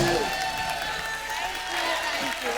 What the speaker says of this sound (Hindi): एक बार जोरदार तालियां सोनाक्षी के लिए।